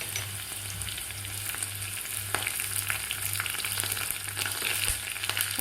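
Curry leaves sizzling in hot tempering oil with green chilli and garlic for a Maharashtrian spiced buttermilk, a steady, dense frying hiss with faint stirring clicks, no talking.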